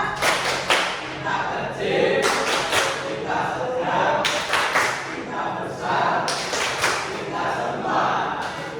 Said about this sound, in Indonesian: Ayo tepuk cinta lagi